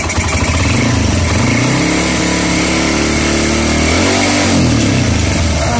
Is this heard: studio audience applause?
no